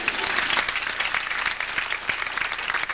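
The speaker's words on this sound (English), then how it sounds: "go ahead and clap" Steady, dense applause from an audience at a girls' varsity basketball banquet, many hands clapping together at moderate distance with no pauses.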